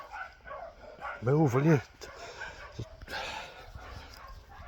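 Dogs bark in a quick burst of several loud, close barks in the middle, with more barking and someone speaking over it before and after, outdoors in Ireland.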